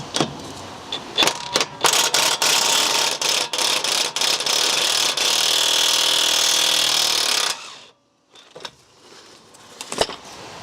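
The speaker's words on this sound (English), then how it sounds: "it should just be a case of removing that 18mm bolt, and the shock should come away then" A power tool loosens an 18mm bolt on the rear shock absorber of a BMW E46 3 Series, starting with short loud bursts, then a long steady whine that stops abruptly, followed by a few faint clanks of metal.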